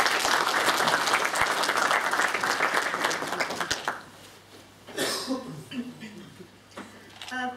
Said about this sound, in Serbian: Molim vas da aplauzom pozdravimo Natašu.